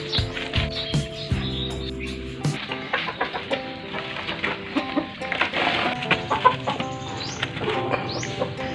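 Chickens cluck and chatter around the yard at moderate distance, with scattered calls and brief flutters over a busy background.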